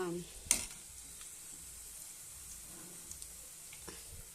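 Small cut pieces of okra frying in a pan give a soft, steady sizzle throughout, with a brief clatter of utensils near the start and a few faint taps later.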